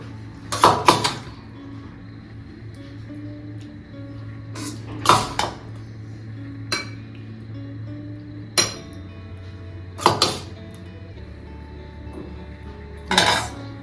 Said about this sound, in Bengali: এই তনুর থালাটাই সাজিয়ে নিচ্ছি